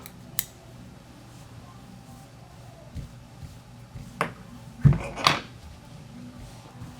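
Scissors trim the fibers of a Sparkle Minnow Sculpin fly at a tying bench: several crisp, close snips spaced a second or so apart, with a quick pair bunched together near the end against a quiet background.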